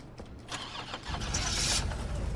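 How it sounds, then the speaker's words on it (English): A car engine cranks and catches in Resident Evil 3 Remake, a short starter whir that rises into a loud, steady idle rumble right up close, with no talk over it. "just crank the car up"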